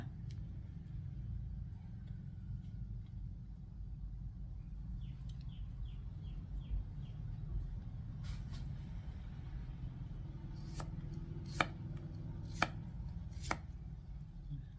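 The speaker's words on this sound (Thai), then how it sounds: "เราก็เอาเลดีสมาหั่นก่อนนะค" A knife chops radish into pieces for a shrimp and squid pounded salad. A few sharp, close cuts land near the end over a low, steady rumble, with no talk.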